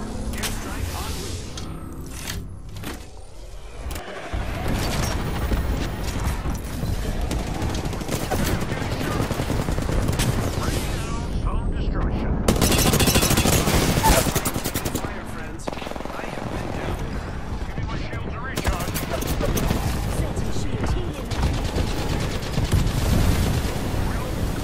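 Apex Legends airstrike and gunfire: a dense, continuous barrage of shots and blasts rumbling throughout, with a loud burst midway, under occasional in-game voice lines.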